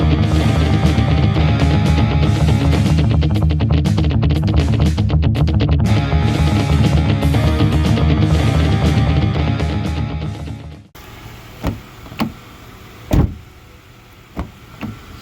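A damaged Honda CR-V car door with bad body work is struck a few times near the end, giving sharp, hollow taps and knocks. Before them comes a long, dense, loud stretch of sound.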